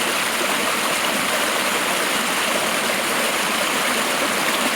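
Water pours and splashes steadily over icy ledges, a loud, close, continuous rushing hiss like a small waterfall, with no voices.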